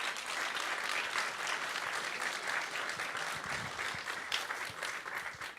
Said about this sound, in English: please welcome him with a great applause for a start